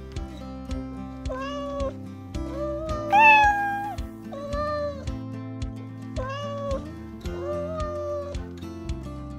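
A cat meows repeatedly, several drawn-out, rising-and-falling meows spaced across the clip over a steady musical background.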